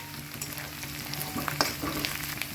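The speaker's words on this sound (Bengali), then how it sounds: "এই যে রসুন আর পেঁয়াজটাকে ভালো করে ভেজে নেওয়ার পরে গুঁড়ো মশলা আর কাঁচা লঙ্কা দিয়ে দেবো" Garlic, onion and green chilies fry steadily in a pan, a continuous sizzle broken by a few brief scraping stirs, close and alone with no voices.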